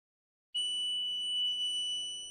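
An ohmmeter's continuity beeper, touched to the filament pins of a 1950 Zenith porthole TV's CRT, sounds a steady, high, thin electronic tone that starts suddenly and holds. It plays alone and faintly.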